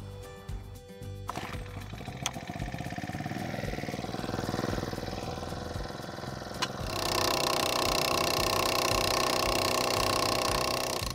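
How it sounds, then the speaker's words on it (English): A Titan post driver drives a steel T-post into the ground for a fence corner brace: a rough, engine-like drone with rapid pounding that swells much louder and denser partway through. "we're going to use our Titan post driver to drive the post into the ground"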